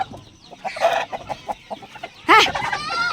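Backyard chicks cluck in short repeated bursts while being shooed into a coop, with a sharper squawk and louder fowl calls near the end.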